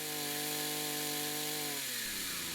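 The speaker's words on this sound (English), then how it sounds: "To use the multi-tool, you squeeze the throttle lockout trigger and the throttle trigger" A petrol 5-in-1 garden multi-tool engine runs at high revs, a loud buzzing whine that holds steady and then drops in pitch as the throttle eases off near the end of the short burst.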